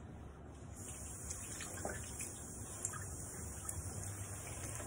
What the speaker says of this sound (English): you asked me about the 7 steps to hand washing